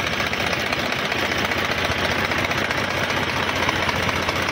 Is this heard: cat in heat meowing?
no